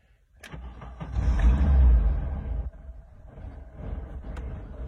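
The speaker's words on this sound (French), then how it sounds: "Alors, il faut que j'accélère un petit peu, parce qu'il a eu le temps de refroidir." A 1979 VW Combi T2b Westfalia engine, cooled down, revs up under the throttle into a loud, swelling roar, holds briefly, then drops back to a steady idle with a couple of sharp transients.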